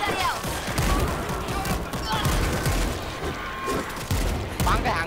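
Gunfire in the zombie shooter World War Z, a dense fusillade of rapid shots and booms that runs continuously, loud and chaotic, with players talking over it.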